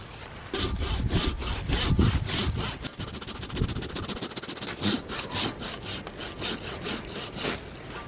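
A hand saw cuts through a dead tree stump in the woods in a fast, steady back-and-forth rhythm of rasping strokes, loud and close, with no one talking.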